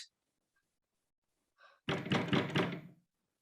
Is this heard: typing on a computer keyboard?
no